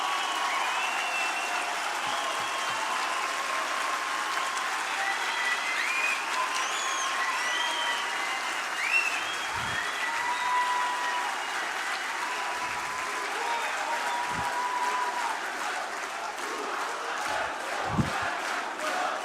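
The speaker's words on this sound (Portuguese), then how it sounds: "Que bom que vocês aplaudiram" Sustained audience applause at a political talk against censorship, a steady dense wash of many hands clapping throughout, with a few faint crowd voices and shouts mixed in.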